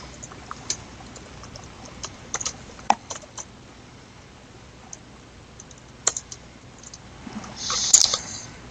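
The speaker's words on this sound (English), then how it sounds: "So I'm typing my Facebook." Computer keyboard typing, scattered quick key clicks at an irregular rhythm, close and moderate in level, ending in a brief louder burst of noise, with no speech.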